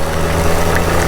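Engine of an old Kawasaki Ninja RR 150 two-stroke motorcycle being throttled in heavy rain, a steady close rumble with no distinct rise, heard continuously and alone.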